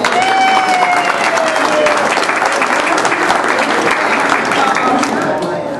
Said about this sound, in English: Let's give Katie a round of applause.